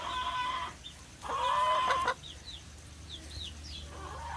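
Hens in a chicken coop cluck and squawk close by, with drawn-out bursts of calling followed by a few short, rising chirps against a low background hum.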